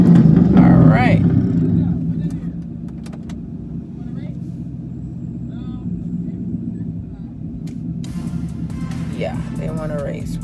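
Car engines rev close by at night, a steady low roar running under the whole stretch, loudest at the start and easing slightly, with brief bursts of voices over it.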